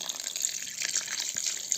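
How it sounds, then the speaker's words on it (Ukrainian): A little water poured into a thick pâté mixture in a home kitchen, a steady bright splashing trickle, fairly close and alone with no talk. "Я додам трішки води, бо бульйону у мене маловато."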